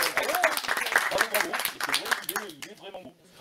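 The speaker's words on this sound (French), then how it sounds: "Ça s'applaudit, hein, on va faire quelques applaudissements." A small live audience claps for a second-division football jersey, the scattered clapping mixed under ongoing talk and dying away near the end.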